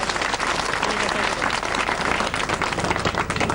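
A crowd of girl students claps loudly for a visiting minister at a school gathering in Mahova, UP, producing continuous dense applause throughout with voices mixed in.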